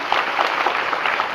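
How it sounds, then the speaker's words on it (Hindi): An audience at a Mission Shakti women's safety event at a police station applauds in a dense, loud wash of clapping that is brief and continuous. "जोरदार तालियां बजाइए।"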